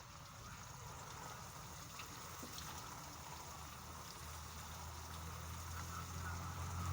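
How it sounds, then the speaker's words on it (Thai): Water trickles and drains steadily from a basin while earthworm eggs are moistened, a soft continuous flow with low rumbling, fairly close and faint throughout. "ให้น้ำไหลออก"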